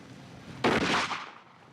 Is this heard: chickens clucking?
no